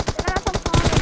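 A fast burst of automatic gunfire in a shooting video game, about a dozen close, punchy shots in quick rhythm.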